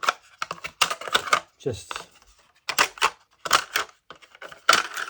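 Sharp, repeated crunching snips from a Fiskars utility snip cutting through a plastic tub, quick bursts in clusters, close and crisp, with a short spoken word between cuts.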